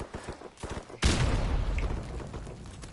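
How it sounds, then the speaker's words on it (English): Gunfire in Call of Duty 4 search-and-destroy play: a few faint distant shots, then a sudden loud close burst that rumbles and decays over the following seconds. "He's shooting me."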